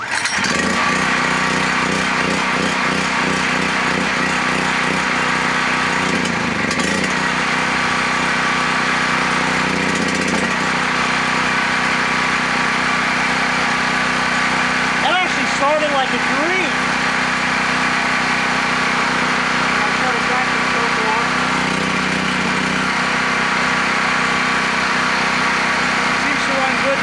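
A Predator 3200/4000 watt portable generator's small gasoline engine runs loudly and steadily close by, a constant buzzing drone with slight fluctuations as it warms up on choke, with someone talking over it at times.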